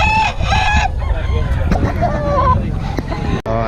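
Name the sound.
chickens and rooster crowing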